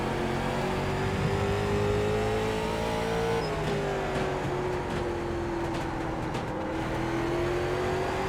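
Late model race car engine in iRacing at Lanier National Speedway, a steady loud drone that rises and falls through the gears into a corner, with faint tire noise underneath.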